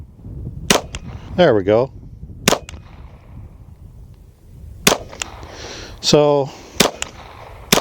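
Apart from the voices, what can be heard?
gunshots from a pistol with a red dot sight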